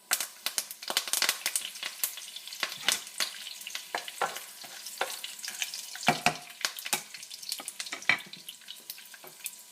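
Curry leaves hit hot oil in a pan and sputter with sharp, irregular crackling pops over a low sizzle, close and fairly loud, with no talking, as chickpea and potato curry cooking begins.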